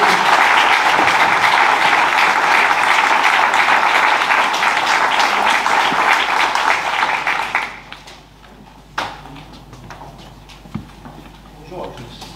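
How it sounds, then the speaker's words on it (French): Loud, sustained audience applause for health professionals at the opening of a mayors' and local authorities' trade fair, lasting about eight seconds before dropping off sharply, followed by scattered handling noises and quiet room sounds. "je vous propose, si vous le voulez bien, de saluer et d'applaudir ces professionnels de santé qui ont été extraordinaires."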